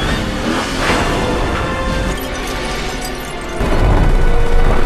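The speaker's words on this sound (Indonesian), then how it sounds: "John terus mengejarnya hingga ia pun terjun dan mobil tersebut pun meledak." A car crashing and exploding in an action film: a loud, dense roar of noise that holds steady and then swells heavier toward the end.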